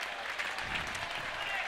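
An ice hockey crowd at a varsity match roars and applauds as the winning captain lifts the trophy, a dense, continuous wash of cheering and clapping that stays loud and steady throughout.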